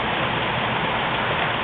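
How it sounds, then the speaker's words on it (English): Heavy rain pours steadily during a storm at Myrtle Beach, a dense, continuous roar of close downpour that holds at the same loudness throughout, with no talk. "It's just pouring out here."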